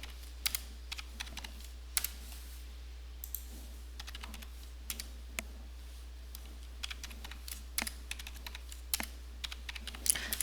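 Numbers being entered on a computer keyboard, scattered quiet key clicks in uneven bursts over a low steady hum, no talking.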